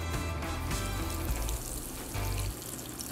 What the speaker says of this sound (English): I'm gonna finish frying these